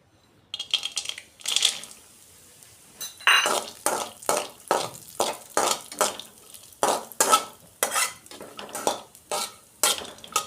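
Small pieces of almond and cashew roasting in ghee, a utensil stirring and scraping the pan in quick, rhythmic strokes with metallic clinks and a faint sizzle underneath.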